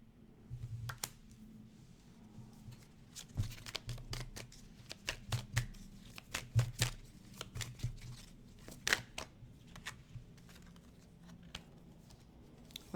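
Tarot cards are shuffled and flipped by hand at close range, a run of quick crisp snaps and riffles in uneven bursts, quiet and without speech.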